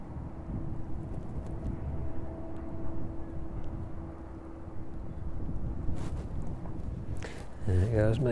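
A Boeing 737-800 airliner departing East Midlands airport, a low distant engine rumble and steady tone under wind noise, with someone talking over it.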